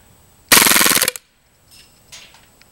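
A KWA Scorpion gas blowback airsoft gun fires one loud, rapid full-auto burst lasting about half a second, a close, dense rattle of shots followed by quiet metallic handling clicks.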